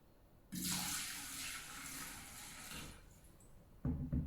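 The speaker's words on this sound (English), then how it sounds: "Let's add some more water" Water pours into a smart electric thermo pot in a steady, close splashing stream for a few seconds, then stops, followed by a brief clatter of the lid or mechanism.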